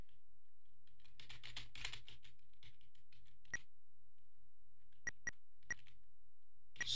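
Sparse, quiet computer keyboard key presses while playing Undertale Yellow with the arrow keys: a soft cluster of taps early on, then a few isolated sharp clicks later, over low background hum.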